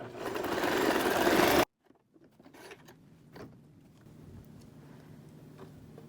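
A household sewing machine runs a straight stitch, a loud, steady mechanical whir with rapid needle clatter for about a second and a half, then stops abruptly, leaving faint ticks and handling noises.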